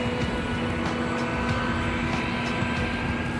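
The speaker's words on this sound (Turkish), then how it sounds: "Uçak diyorum, uçak." Airplane engine droning steadily and fairly loud, a continuous broadband roar with a faint tonal hum running through it, no voices.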